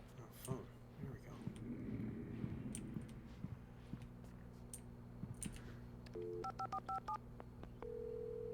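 A telephone in the Alan Wake video game is dialed, a quick series of short dialing tones followed by a longer steady tone, heard faintly after voices talk over low background sound.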